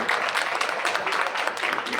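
A crowd at a Diwali lucky draw in an electronics showroom claps steadily for about two seconds, a dense and even patter of many hands at moderate distance.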